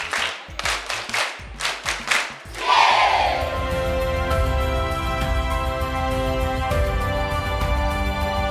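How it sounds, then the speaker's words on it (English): Children clap at a school gathering, several quick, sharp bursts of clapping early on, followed by a sustained rumbling, musical din with voices that masks any further claps. "Come on, give him a clap."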